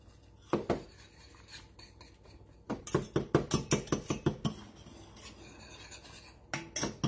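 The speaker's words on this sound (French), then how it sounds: "Je mets une cuillère comme ça de fécule de maïs. Puis là, ça brassaille" Cornstarch being stirred into pineapple juice in a cooking pot: a spoon scraping and clinking against the pot in a quick rhythmic series of strokes, close and moderately quiet, with no voices.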